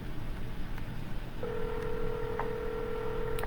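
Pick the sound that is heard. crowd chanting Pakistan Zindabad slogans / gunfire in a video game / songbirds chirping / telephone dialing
telephone dialing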